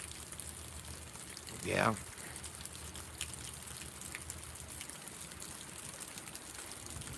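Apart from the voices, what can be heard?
rain falling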